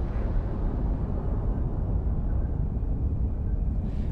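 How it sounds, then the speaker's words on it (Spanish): A nuclear blast in Fallout 76 rumbles as a dense, roaring low-end wash, steady and loud throughout like a sustained distant explosion. "Se ve la explosión, la seta que se forma."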